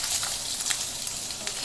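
Mushrooms crisping in a spattering pan for beef in creamy mushroom sauce, producing a close, bright, continuous sizzle with little pops and no talking.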